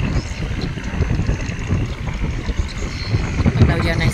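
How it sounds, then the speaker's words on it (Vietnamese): A barge engine running at high speed on a river gives a continuous low rumbling drone, with strong wind gusting and buffeting across the microphone throughout. "cái chiếc máy nghe ầm ầm luôn"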